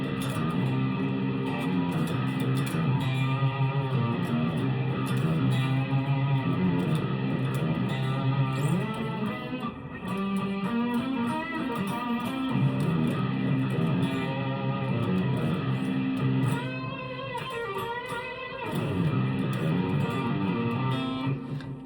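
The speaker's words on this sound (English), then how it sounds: "with these pitch shifters" An electric guitar runs through a Boss GX100 pitch shifter effect and plays sustained, layered, shifted tones continuously with some bending pitch swoops, loud and alone with no voice.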